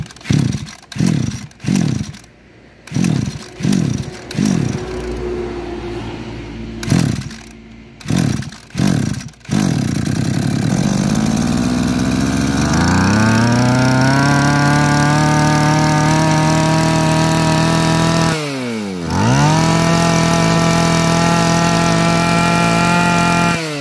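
A Ryobi small engine fitted with a Komatsu motor takes several sharp recoil pulls, catches, and settles into a loud, close, buzzing run. It rises in pitch, cuts out briefly, then restarts and keeps running steadily.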